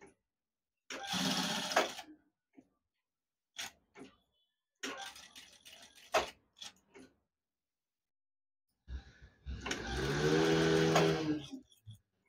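A sewing machine stitches a back-open blouse in short separate bursts of rapid whirring and clatter, the first and last runs longer, with quiet gaps and small clicks in between, close by and alone.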